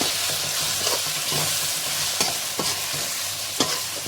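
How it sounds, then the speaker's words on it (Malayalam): Turmeric powder is stirred into a curry sizzling in a pan, with a continuous frying hiss and soft, regular scraping strokes of the spoon up close, no voices. "ഇത്ര മഞ്ഞപ്പൊടി കൂടെ ജസ്റ്റ് ഒന്ന് ചേർത്ത് ഒന്ന് മിക്സ് കൊടുക്കുക"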